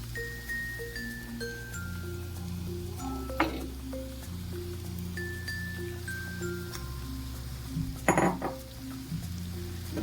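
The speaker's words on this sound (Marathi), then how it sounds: "कारलं व्यवस्थित परतून घेऊयात जेणेकरून मसाला सर्व कारल्याला लागेल." Roasted bitter gourd (karela) sautéed in masala, a faint sizzle beneath steady background music, with two clear bursts of metal spatula clinks against the pan.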